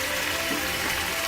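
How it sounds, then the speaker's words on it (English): Chicken pieces frying in about a tablespoon of olive oil for a cabbage and chicken stew, giving a steady, dense sizzle and crackle that holds at an even level throughout with no voices. "So as my chicken is frying up here nicely."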